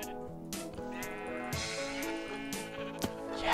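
Sheep bleating in the video game Minecraft, several wavering bleats in quick succession, close and clear, with faint game sounds in between.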